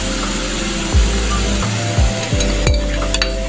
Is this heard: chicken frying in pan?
yes